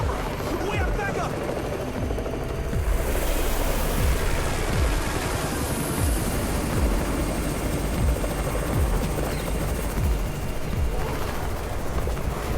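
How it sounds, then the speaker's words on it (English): A rescue helicopter arrives in the zombie survival video game Undawn, its rotor a loud, steady broadband roar with rhythmic low thumps throughout, alongside brief game voice and effects. "It's Raven's chopper! We have backup"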